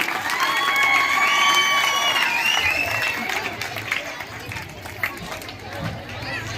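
A crowd at Farghan Model School's annual result ceremony claps and cheers with high shouts, loudest in the first few seconds, then thins into scattered clapping and chatter.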